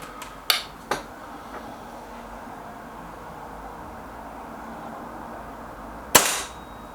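Two sharp snapping shots from a Rexime Myth 177 air pistol in quick succession, then a pause and a third louder crack, each a crisp close report with a brief tail.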